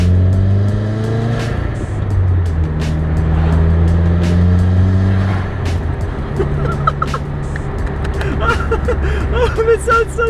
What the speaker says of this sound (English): you're just starting to get that GrimmSpeed Intake sound